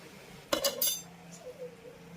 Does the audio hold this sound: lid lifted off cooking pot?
yes